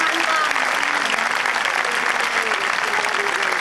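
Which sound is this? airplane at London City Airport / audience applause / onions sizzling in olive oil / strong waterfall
audience applause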